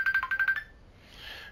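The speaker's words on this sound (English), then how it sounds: "And there's my phone going." A mobile phone ringtone chirps in a quick series of about six bright electronic pulses, fairly close and clear, then cuts off, leaving a faint hiss.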